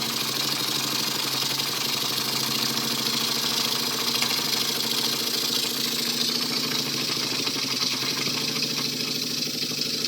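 An Alexander Karnes engine idles at minimum RPM in a workshop, giving a steady, continuous mechanical chugging that stays even throughout at moderate loudness, with no voices.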